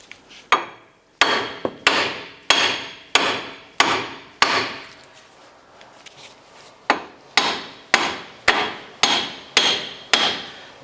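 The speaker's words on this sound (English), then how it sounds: "what you want to do is work your way hitting the hub itself to separate it from the knuckle itself" A hammer strikes the front wheel hub of a 2008-2013 Nissan Rogue to knock it free of the steering knuckle, giving sharp metallic blows at a steady rhythm of roughly one every half-second to second, with a brief pause midway.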